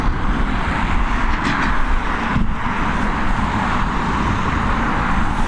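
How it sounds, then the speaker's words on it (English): An Air France airliner taxiing at Dublin Airport gives a loud, constant broadband jet roar that holds steady throughout, with no talk over it. "we've got this Air France taxiing towards us"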